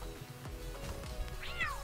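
A miner cat Pal in the video game Palworld gives a short, rising meow near the end, heard close over steady low game ambience and faint background tones.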